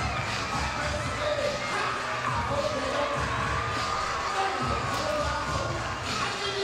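A softball stadium crowd cheers and shouts during a Team USA versus Florida game, a continuous roar of many voices with scattered whoops and claps at a moderate distance.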